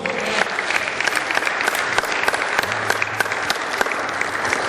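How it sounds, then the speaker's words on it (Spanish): A church congregation applauds, a dense, steady wash of many hands clapping together for several seconds with no voices on top. "Denle un aplauso al Señor, vamos."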